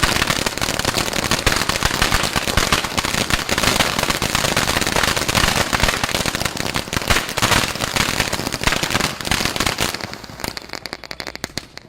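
Wedding firecrackers fire off in a long, dense, continuous run of sharp cracks and pops. They stay loud and close for about ten seconds, then thin out and fade.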